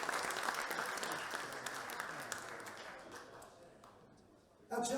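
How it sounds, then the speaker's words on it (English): A theatre audience at the Playhouse claps for an evening with Chelsea football legends, a full dense round of applause that gradually thins and fades before a voice cuts in at the end. "So please give them a round of applause for the Playhouse."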